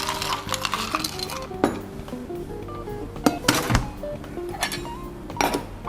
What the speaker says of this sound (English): you can stir to dissolve the chocolate powder or the Milo